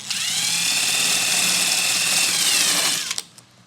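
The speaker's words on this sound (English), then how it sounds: "you can use a wire brush wheel on your drill and take it off" A loud, steady high-pitched whir of a wire brush wheel spinning on a drill, removing peeling backing from boat carpet, winding down at the end with a few clicks.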